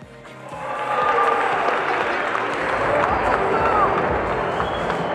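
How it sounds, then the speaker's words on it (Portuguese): Arena crowd at a WGP kickboxing event applauds and cheers the heavyweight belt champion, a dense, sustained roar of clapping that swells after a quieter opening and holds steady, with a ring announcer's voice heard through it. "uma salva de palmas."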